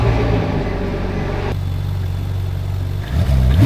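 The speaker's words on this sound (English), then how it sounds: "Let's start it, try and run the car to temperature" A Ferrari 458 engine under rebuild, with a repaired radiator, runs at a loud, close, steady idle before rising into a rev near the end.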